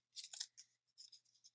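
Scissors snip through paper cut from recycled toilet paper rolls to shape craft wings, a few quick crisp cuts close by in two short bursts.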